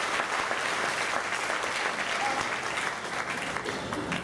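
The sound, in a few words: applause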